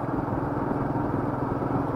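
Royal Enfield Meteor 350 motorcycle with its new J-type engine, a steady low rumble of the engine running evenly without rising or falling, no voices over it.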